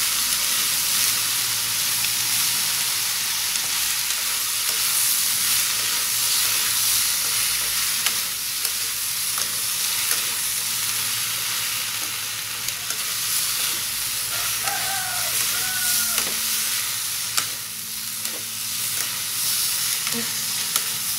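Vegetarian noodles with oyster sauce being stir-fried in a pan, with a steady loud sizzle and hiss throughout and the occasional scrape and tap of a spatula as the food is tossed and mixed.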